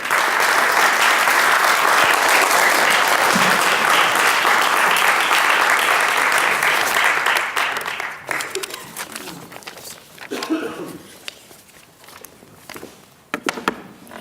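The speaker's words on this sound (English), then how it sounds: "Let's give another round of applause for Mayor Helfrich for those updates" An audience at a civic 'Tale of Three Cities' event in York gives loud, dense applause for several seconds. It then thins to scattered claps and shuffling footsteps.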